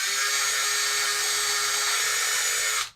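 A power drill bores steadily into a guitar neck to fit Fender locking tuner pegs, one continuous close whine that cuts off abruptly at the end.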